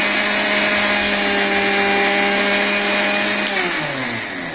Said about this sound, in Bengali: আচ্ছা, আমাদের ব্লেন্ড হয়ে গেছে।